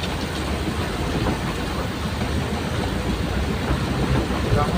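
Heavy rain pours down in a steady, unbroken roaring hiss for the whole stretch, with no voices.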